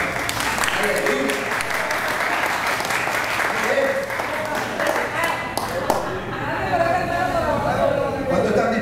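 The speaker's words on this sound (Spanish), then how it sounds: "Le pone un fuerte aplauso al líder de audiovisuales de la iglesia" A church congregation applauds loudly and steadily, dense clapping filling the room throughout with voices mixed into the crowd noise.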